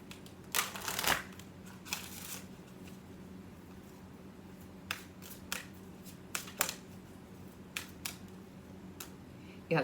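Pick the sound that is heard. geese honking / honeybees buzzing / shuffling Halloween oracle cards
shuffling Halloween oracle cards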